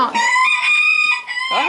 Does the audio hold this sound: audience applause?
no